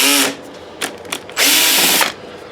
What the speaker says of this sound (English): Time to take screws out.